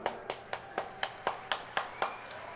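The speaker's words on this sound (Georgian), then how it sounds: "თუ მოგეწონათ ერთი ტაში დაუკრათ" Clapping at a drag race event, heard as about nine crisp, evenly spaced claps in a steady rhythm, fairly close and moderately loud.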